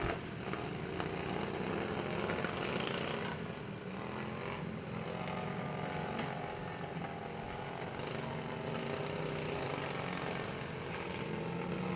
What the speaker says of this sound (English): Bo Atkins making me nervous with that hand outside that mower